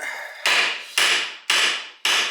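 Hammer striking a chisel to pound parts off the front end of a 1968 Pontiac GTO A-body during teardown, four loud ringing metallic blows at an even half-second rhythm, each decaying before the next.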